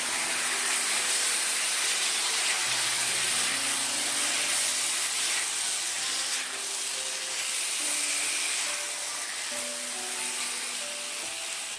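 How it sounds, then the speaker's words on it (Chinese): Fried mantou cubes tossed in sweet and sour sauce in a wok over high heat, with a loud, steady hissing sizzle throughout and faint scraping underneath. "大火给它翻炒均匀"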